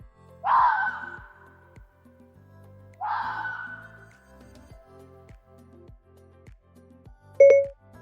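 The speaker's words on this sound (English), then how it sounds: "A red fox sounds like this." Two sharp, raspy red fox calls, each a brief harsh scream that fades quickly, spaced a few seconds apart and played back through a phone voice assistant. A quiet hum runs underneath, and a short electronic chime sounds at the end.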